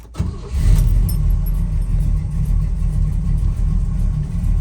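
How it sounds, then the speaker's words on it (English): A 1969 Chevrolet Camaro SS clone with a GM ZZ4 355 crate V8 and Muncie four-speed manual cranks and fires up, then settles into a loud, steady, rumbling idle close by. "let's start up the car,"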